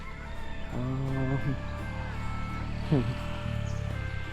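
Chickens at a village home in the early morning: a rooster crows twice, a few seconds apart, with faint clucking and a steady low background hum between the calls.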